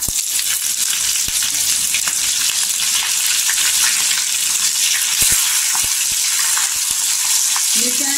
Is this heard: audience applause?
no